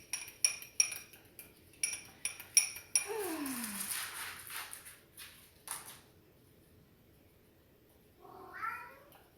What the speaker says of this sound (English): Did you hear Peanut meow?